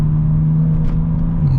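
A BMW G82 M4, tires a little squirrely, accelerates with a deep, steady engine drone and road rumble heard loud from inside the cabin, without talking.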